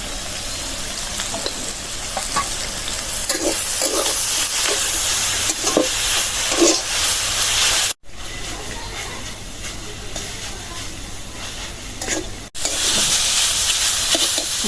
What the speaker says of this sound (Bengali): ভাজা হয়ে গেল কচু শাক